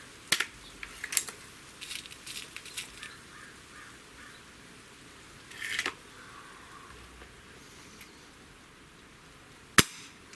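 Break-barrel Barra 1200g air rifle firing RWS Diablo pellets outdoors, a few sharp cracks spread across the stretch, with a single loud crisp shot standing out near the end over quiet background.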